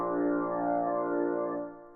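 A sustained chord from a Road-worn electric piano rings out with warm, steady harmonics, then fades gently near the end; no voices.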